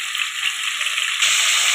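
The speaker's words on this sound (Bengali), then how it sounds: "তেলের মধ্যে দিয়ে ভালো করে ভেজে নিচ্ছি আমি" Chicken pieces fry in hot oil with a steady, bright sizzle that grows slightly louder near the end, no voices.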